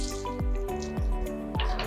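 Water is poured into a pan of vegetables for Tirunelveli sodhi, heard as a few separate splashy drips and plops about half a second apart, close by, with no talking.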